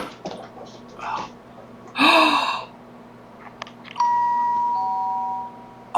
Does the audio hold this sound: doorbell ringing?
yes